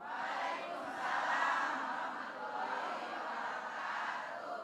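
A studio audience at an Islamic religious TV program breaks into sustained, dense applause and crowd noise, holding steady and loud throughout.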